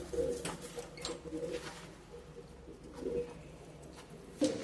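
High-flying Madrasi pigeons coo in a Kolkata loft, giving several soft, low, throaty coos spaced a second or two apart over faint background noise, with no voices.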